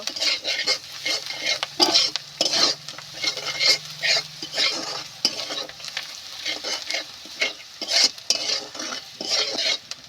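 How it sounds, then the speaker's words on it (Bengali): Spice masala with salt, turmeric and chili is sautéed in a pan for a snake gourd dish, with a utensil scraping the metal in quick repeated strokes over a continuous sizzle, close and clear, no talking. "এবার আমি খুব সুন্দর মতো করে মশলাটা কষিয়ে নেব।"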